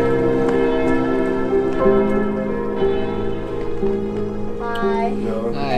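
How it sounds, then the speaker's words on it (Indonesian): Church bells in the Swiss village of Stalden ring out in a steady, resonant peal, echoing across the town with overlapping tones that sustain and blend for several seconds. "Bel dari gereja menggema dengan sangat jelas di seluruh penjuru kota."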